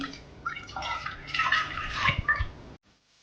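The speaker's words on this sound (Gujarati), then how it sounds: "એમાં પાણી એડ કરીશું।" Water poured into a kadai (wok) while preparing veg handvo, a steady close splashing pour of about two and a half seconds that stops abruptly.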